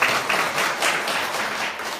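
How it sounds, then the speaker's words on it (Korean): A lecture audience claps in a dense, steady round of applause, fairly loud, for about two seconds with no one speaking. "다시 한번 박수 부탁드리겠습니다"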